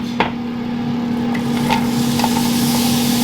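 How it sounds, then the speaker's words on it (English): Gorgetti mushrooms go into a hot pan and sizzle steadily, with a few sharp utensil clicks and stirring scrapes over a constant hiss and a faint electric hum. "now we're heating up the pan and we are going to insert"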